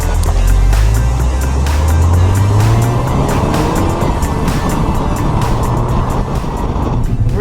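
A turbocharged Ford Focus ST with a manual gearbox drives on a country road, its engine note rising loudly as it accelerates through a gear, with steady road and wind noise close by.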